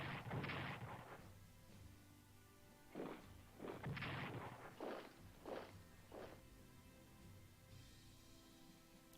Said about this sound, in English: Goddamn British artillery.